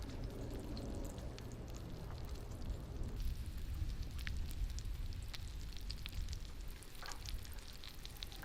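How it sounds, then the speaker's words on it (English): Freshly caught trout sizzles in a Lodge cast iron pan on a Camp Chef Explorer stove outdoors, a steady crackling hiss with scattered pops, faint and continuous throughout. "Let that sizzle for a while."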